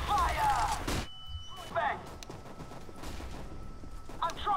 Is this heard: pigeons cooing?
no